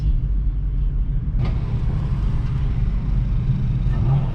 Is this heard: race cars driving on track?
yes